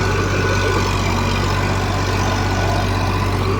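An Eicher 551 tractor pulling a rotavator through wet soil gives a loud, steady low diesel drone with a constant churning rumble, close by and without talk.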